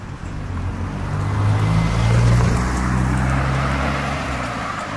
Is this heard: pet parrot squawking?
no